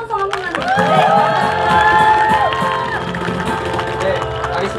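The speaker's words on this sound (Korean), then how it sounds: "저희 박수 한 번만, 환호성 한 번만" An outdoor audience at a cherry blossom festival concert by Seokchon Lake cheers and whoops with some clapping, a loud sustained crowd roar that stays steady throughout.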